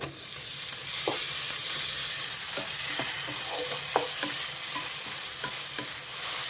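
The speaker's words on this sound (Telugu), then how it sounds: "ఇప్పుడు ముందుగా కట్ చేసుకున్న టమాటాలు వేసేసుకోవాలి" Chopped tomatoes fry in hot oil for a garlic chicken curry, giving a close, steady sizzle broken by sharp clicks of a spoon stirring against the pan.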